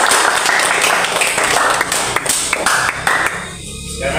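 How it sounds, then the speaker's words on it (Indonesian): Students in a classroom applauding group 1: a close, loud burst of dense hand clapping with sharp individual claps, continuing steadily and then thinning out toward the end. "kita kasih aplaus dulu untuk kelompok 1"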